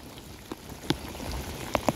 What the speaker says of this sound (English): Alright, it's pouring rain.